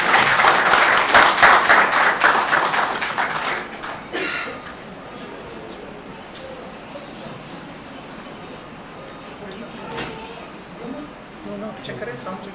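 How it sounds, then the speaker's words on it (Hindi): Audience applause at a Thalassemia Day welfare gathering, a dense burst of clapping that fades after a few seconds into room murmur and a voice talking. "आपके क्लैप के दौरान तालियों की गूंज में"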